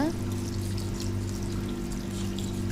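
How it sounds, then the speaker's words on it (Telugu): Water pours steadily into a pot of chicken curry in a continuous rushing splash, close by, with a low steady hum underneath throughout. "ముక్క ములిగేంత వరకు వాటర్ వేసుకొని అయితే ఉడికించుకోవాలి"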